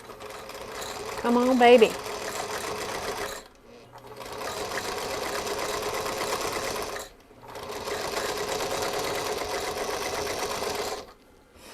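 A sewing machine stitches a beginner project bag in three steady runs of whirring, each a few seconds long with brief stops between, close and loud, while a voice speaks briefly near the start.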